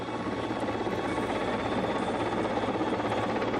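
An Mi-171 helicopter flies at the SIAF 2014 air show carrying an underslung load, its steady rotor drone and engine buzz faint and distant, with no voices.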